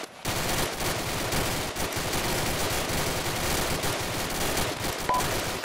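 A machine gun section keeps up sustained fire in a military video game, a dense, unbroken rattle of rounds that stays loud and steady throughout.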